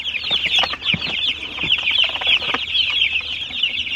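Chickens cluck continuously in a dense, close chorus, with overlapping calls and scratching noises and no talking.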